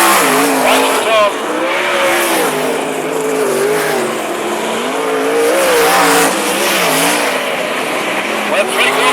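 Sprint cars racing around a speedway, engines roaring and rising and falling as the pack circles, loud and continuous under a race commentator talking.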